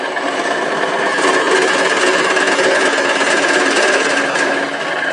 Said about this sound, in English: I'm going to start the lathe.